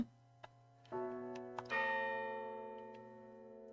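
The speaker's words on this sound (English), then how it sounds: "The sound of a bell rang," A bell rings in a horror visual novel game, two resonant strikes with a long shimmering decay, preceded by a few soft ticks, clear and alone.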